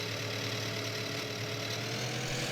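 A tractor engine idles in the Farming Simulator 15 video game, a steady, continuous mechanical drone with an even rumble and no voices over it.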